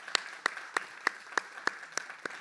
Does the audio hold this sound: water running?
no